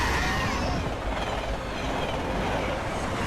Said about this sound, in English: who summoned the Doom train?